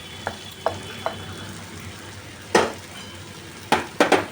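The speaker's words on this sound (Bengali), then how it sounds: "এই দেখো, এবার এর সাথে পুরো আমি এটা মাখিয়ে নিচ্ছি।" Fried prawns being tossed together with squash and potato in a pan, giving a few scattered light taps followed by louder scraping stirs against the metal, with a faint sizzle underneath.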